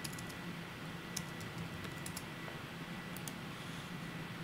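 Computer keyboard clacks in short irregular bursts as a search is typed, quiet and close over a faint background hiss, no voices.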